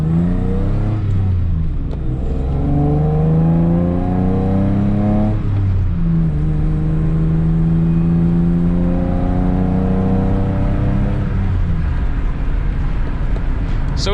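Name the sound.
1997 Toyota Tacoma 5-speed pickup driving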